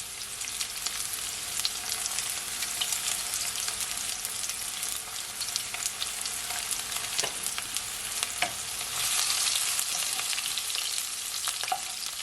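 Onion and garlic sauté in olive oil in a pan, giving a steady, close sizzle with dense crackling spatter throughout and a few sharper pops and utensil ticks.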